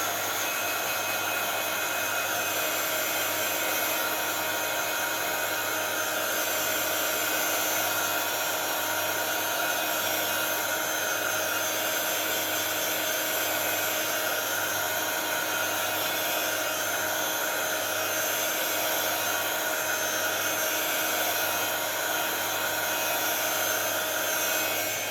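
A hair dryer blows continuously at close range, a loud, steady whooshing roar with a constant motor whine that holds unchanged for the whole stretch, with no talking.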